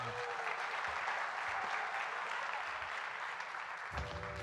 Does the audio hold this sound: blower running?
no